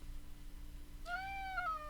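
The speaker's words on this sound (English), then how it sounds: "damn cats distracting me" A cat gives one long, rising then falling meow, close and clear, following a second of low room hum and near silence.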